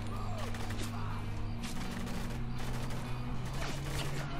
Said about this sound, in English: Oh, I hear that turret